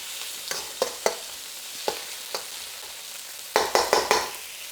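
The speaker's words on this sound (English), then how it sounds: "Let's go ahead and get these tomatoes in. We'll let that cook down a little bit." Tomatoes sizzle and fry in oil in a pan, a steady hiss broken by several sharp scraping stirs, some clustered together near the end.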